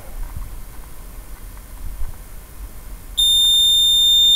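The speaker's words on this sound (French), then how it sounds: "Donc ça part en alarme." Quiet low rumble, then a loud, piercing electronic alarm tone from an Alpha C2/4 fire alarm control panel suddenly starts and holds steady at close range.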